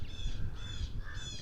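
Purple martins in a colony on eastern Long Island call in three brief chattering bursts, faint and somewhat distant over a low rumble of outdoor background noise.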